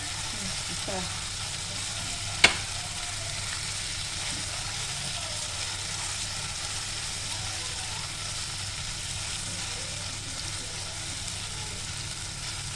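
Onion frying in a pan for a pav bhaji, a steady broadband sizzle running unbroken from start to finish, with one sharp tap or clink of a utensil near the start and no talk.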